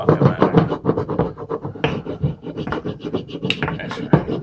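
An antique rusty hatchet being rubbed and polished during restoration, wood against wood and brass against wood, producing loud, irregular rasping strokes close up.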